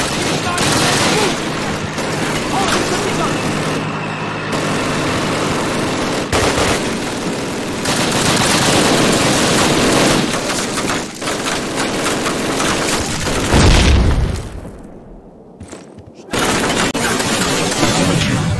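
Dense machine gun fire and explosions from the 2003 Call of Duty game, a loud continuous battle barrage with heavy booms and rattling bursts, briefly dropping away near the end before resuming, with shouted voices mixed in.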